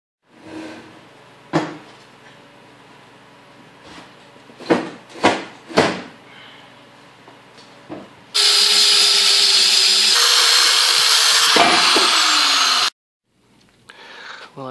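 A power tool, likely a cutoff tool, cuts off a pipe on a turbo manifold for a 3.8 V6 SN95 Mustang, running loud and steady for about four seconds after a series of sharp clanks and knocks.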